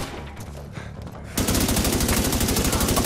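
Automatic gunfire in The Division 2 video game: a quieter stretch of distant shooting, then abruptly loud, close rapid rifle fire in a steady fast rhythm.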